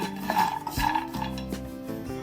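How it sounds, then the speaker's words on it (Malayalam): Dry fruits and nuts are stirred and scraped around a hot pan, with a steady rasp and clatter of a utensil against metal. A faint hum runs underneath, and no one speaks. "നല്ല ചൂടായ പാനിൽ ഒരു 5 മുതൽ 7 മിനിറ്റ് വരെ ഇതൊന്ന് ഫ്രൈ ചെയ്തെടുക്കാം."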